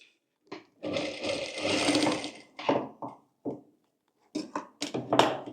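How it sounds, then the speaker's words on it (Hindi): A sewing machine stitches around the back neck of a work-style blouse, running in one long steady burst and then several short, quick starts and stops, close and fairly loud. "पूरे में इस तरह से सिलाई लगा लेंगे।"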